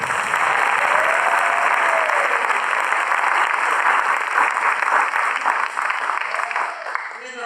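An audience at a school debate event applauds both teams with steady, dense clapping that continues evenly for about seven seconds before easing off, with a faint voice briefly audible beneath it.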